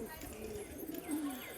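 Low pigeon cooing rolls on near and steady, swelling briefly toward the end, while pigeons are out flying around the loft and a voice speaks faintly in the background.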